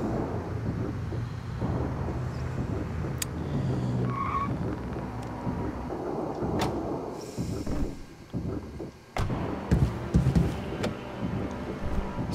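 Game car engine from Five Nights at Freddy's: Into the Pit, a steady loud driving drone with tire skids and bumps, a brief dip near the end before the rumble resumes.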